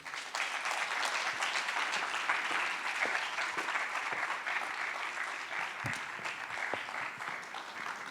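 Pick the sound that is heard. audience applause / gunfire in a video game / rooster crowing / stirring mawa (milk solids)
audience applause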